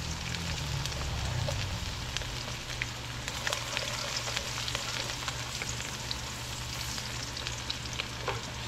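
Garlic and onion sauté in a hot pan for chicken adobo, a steady close sizzle and crackle that runs throughout with a faint low hum beneath and no talking.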